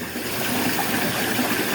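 A hand swishes through bath water to whip up bubbles from a lavender-vanilla bubble bar, a continuous close, splashy gushing wash without pauses.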